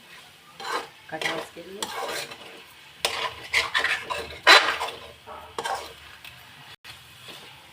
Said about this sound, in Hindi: अब इसे हम मिक्स कर लेंगे